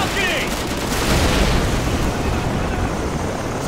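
Gunfire and explosions in Call of Duty 4: Modern Warfare make a loud, dense wash of rumbling blasts and shots, with a voice shouting over the din.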